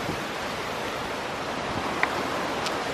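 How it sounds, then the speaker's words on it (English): Ocean waves wash below a cliff, a steady, even roar of surf heard from a distance, with a couple of faint brief sounds over it. "The ocean is right there off that cliff."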